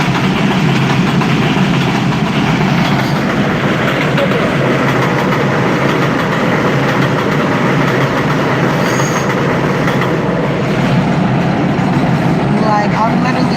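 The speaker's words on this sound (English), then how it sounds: "here go another train" A train rumbles past near a station in the Bronx in a loud, continuous roar of wheels and engine with a brief squeal late on, heard alone and close.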